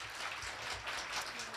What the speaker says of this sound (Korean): 대상 수상자들에게 박수 부탁드립니다